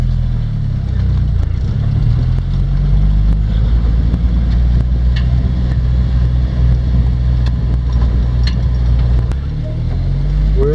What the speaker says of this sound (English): We're out in the Jeep riding up a wash, and we're looking for some mines